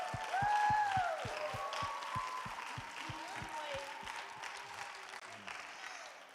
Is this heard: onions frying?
no